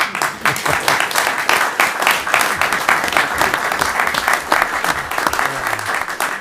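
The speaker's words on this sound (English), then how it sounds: "So I want everybody to give you all a clap." An audience at a town commissioners meeting breaks into sustained applause, dense steady clapping that stays fairly loud for several seconds, with a faint voice or two mixed in.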